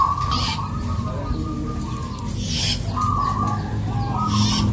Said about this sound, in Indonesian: di video kali ini saya mau membahas tentang perkutut untuk gantangan ya guys.